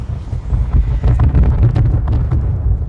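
Fire burning in the survival shooter H1Z1 gives a steady crackling roar with a deep low rumble and scattered sharp pops throughout. It sounds close and fairly loud, with no talking.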